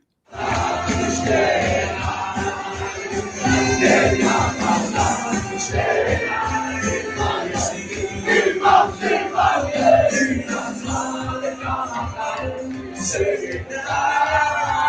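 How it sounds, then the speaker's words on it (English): A large crowd cheers and shouts in a dense, continuous roar that holds steady from start to finish, with no single voice standing out. "they're all cheering"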